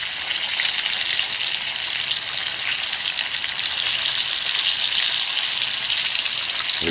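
Trout fillets frying on a Firebox camp stove outdoors, a loud, close, unbroken sizzle with dense crackling spatter holding steady the whole time.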